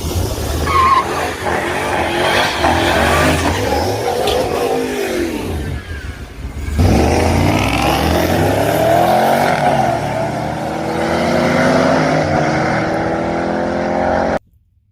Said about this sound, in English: I don't think he realized it as he was doing his burnout